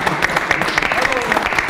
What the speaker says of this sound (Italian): Un applauso a Scilla.